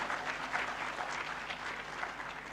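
Audience applause in a lecture hall at a university talk, a soft, steady wash of many hands clapping at a distance, continuous for a few seconds.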